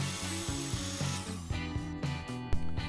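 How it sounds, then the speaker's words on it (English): A chop saw cuts strips ripped from a 2x4 to length, a whirring, rasping cut with rhythmic pulses that tapers off as the blade finishes, close and fairly loud. "I cut those strips to the length I needed on the chop saw."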